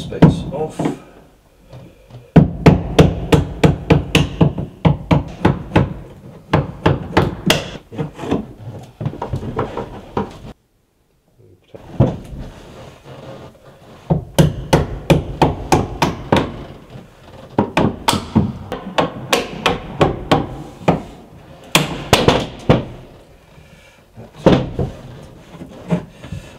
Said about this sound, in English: I'm now going to just knock the inner bit off as well.